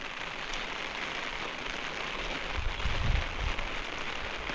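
Heavy rain pours steadily over open farmland, a dense even hiss of drops striking surfaces, swelling slightly louder near the end with no voices.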